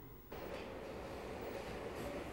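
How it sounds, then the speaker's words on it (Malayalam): A train rumbles past in a steady, loud roar that starts abruptly and holds throughout, with a dense low rolling clatter and no voices. "ഞാൻ ഈ ട്രെയിനിൽ പോവാന്ന് വിചാരിക്കുന്നു"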